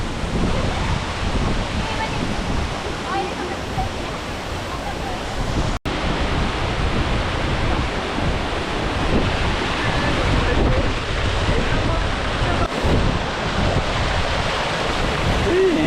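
A waterfall roars continuously nearby, a loud, dense rush of falling water that fills the whole stretch without a break.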